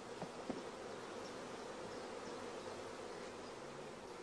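Honey bees buzz in a steady, faint drone as they are brushed off hive frames, with a couple of soft taps early on and no voices.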